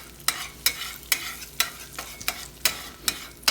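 Eggs seasoned with salt and pepper cook in a pan for a Midwest breakfast, as a utensil scrapes through them in quick, regular strokes, about nine distinct swishes over a soft sizzle.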